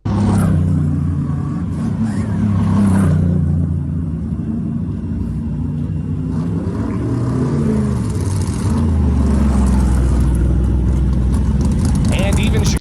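NASCAR race cars roar through a street race in Chicago, a steady loud engine rumble with rising revs and passing surges throughout, heard from a spectator position with crowd voices mixed in.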